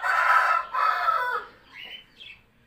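Several backyard chickens being treated for a respiratory cold cluck and call close by, a dense burst of loud squawking fading to a few softer, higher clucks, with no talk.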